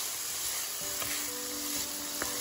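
Pancetta frying in a pan on a hot stove, giving a steady, dense sizzle throughout with a few faint clicks and pops, close and alone.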